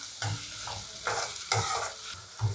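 Onions with curry leaves are stirred in a pan while cooking down to brown, with a soft sizzle under several scraping, clinking strokes of a spoon at a steady, unhurried pace.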